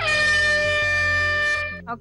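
A game show air horn blares once, a loud steady tonal blast lasting about a second and a half before cutting off to signal the start of a task.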